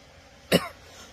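A single short cough, fairly close and moderately loud, followed by quiet.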